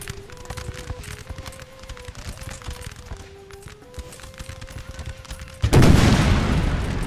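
Canister shot artillery fire in the video game Napoleon Total War, a sudden loud blast at the end breaking over a background of horses and musical tones, then a heavy rolling rumble.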